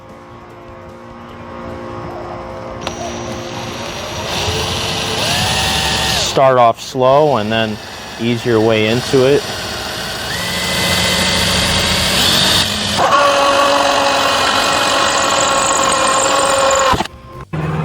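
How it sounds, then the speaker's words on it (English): A power drill whines and revs while boring an entrance hole into a wooden birdhouse, with someone talking over it at times and a pause between bursts. "we're going to drill our hole for the birds to come in"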